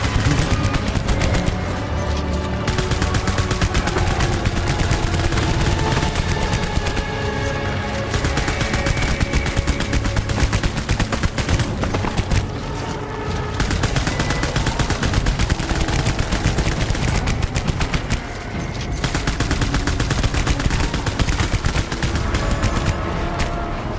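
Sustained gunfire in the video game Death Stranding, loud rapid bursts of shots running almost continuously with only short breaks.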